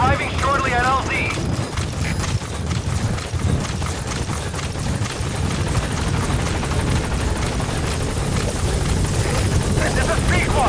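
The Pequod helicopter in Metal Gear Solid 5 drones loudly and steadily with constant rotor thrum throughout, with voices talking over it.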